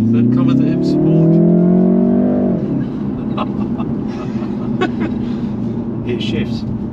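A 2021 BMW 330i with a 2-litre engine pulls hard, its rising engine note climbing for a couple of seconds before dropping at a gear shift, then settling into a steady drone with faint cabin noises.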